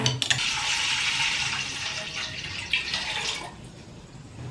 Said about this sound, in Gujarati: ચાર લોટા પાણી મૂક્યું છે